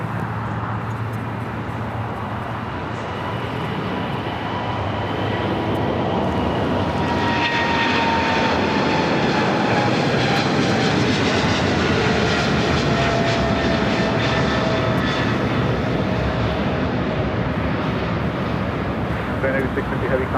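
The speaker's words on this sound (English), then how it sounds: "we got the MSC Cargo 777 freighter taking off 25 left" A Boeing 777 freighter of MSC Air Cargo, operated by Atlas Air, takes off from runway 25 left at LAX bound for Hong Kong, a loud, steady jet roar that swells and holds, with a rising turbine whine mixed into the rumble.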